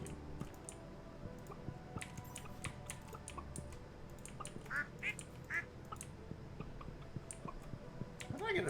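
Duck quacking in a video game, several short quacks scattered among mouse and keyboard clicks, with occasional voice in the background.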